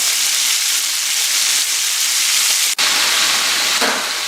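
Beef sizzles and fries hard in a hot pan for a quick stir-fry, a loud steady crackling hiss with a brief clatter near the middle and the sizzle carrying on alone, no talking.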